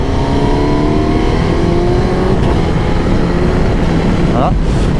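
Suzuki GSX-S1000GX motorcycle engine building steadily as it accelerates to overtake, a continuous loud roar with rising harmonics, heavy wind rush throughout and a brief vehicle sweep near the end.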